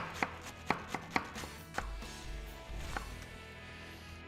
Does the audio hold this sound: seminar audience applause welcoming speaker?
no